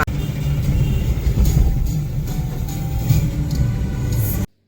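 A car creeps along at about 10 km/h on a fog-bound road in Sonpur, its engine a steady low rumble heard from inside the cabin, continuous and moderately loud until it cuts off abruptly.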